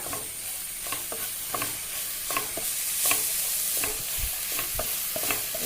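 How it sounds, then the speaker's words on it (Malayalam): A bitter gourd stir-fry with chopped curry leaves is stirred in a pan, repeated scraping strokes of the spoon sounding at a loose, regular rhythm over a soft continuous sizzle, close and clear. "എന്നിട്ട് ഇതിലിട്ട് നല്ലോണം ഒന്ന് ഇളക്കുക"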